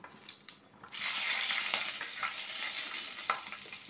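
Four green chillies dropped into hot oil with ghee and a bay leaf, where fish has just been fried, burst into a loud sudden sizzle that settles into a steady hiss with a few stirring clicks.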